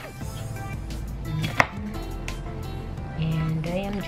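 A knife slicing a sweet pepper on a board, with a few close, crisp cuts and one sharper knock against the board, while a voice talks over it.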